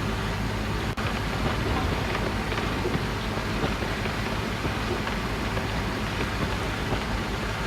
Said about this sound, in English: And here comes some more rain.